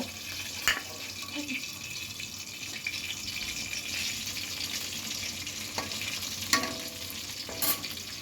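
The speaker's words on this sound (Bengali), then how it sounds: "বাদামটাও তেলে ভেজে নেব" Washed peanuts frying in oil in a home kitchen, giving a steady hiss of sizzling with a few sharp clinks and scrapes of stirring scattered through it.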